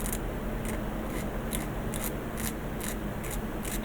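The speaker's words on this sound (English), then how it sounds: "I might be able to get rid of a lot of this with my snips" Metal snips cutting photoetch metal parts, a series of short crisp snipping clicks repeated roughly every half second over a steady background hiss, close but fairly quiet.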